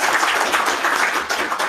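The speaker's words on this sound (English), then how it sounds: "Give them a round of applause" An audience at a tech meetup gives the host a steady round of applause, a dense continuous patter of many hands at moderate loudness.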